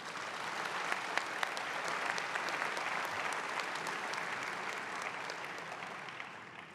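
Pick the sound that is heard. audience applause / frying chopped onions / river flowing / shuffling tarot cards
audience applause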